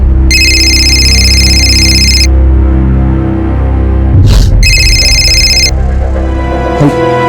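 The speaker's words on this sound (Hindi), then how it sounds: "फोन बज रहा है कब से आपका?" A telephone rings in two long bursts of high, repeating electronic trills separated by a short pause, loud and close over a low background hum in a crime drama scene.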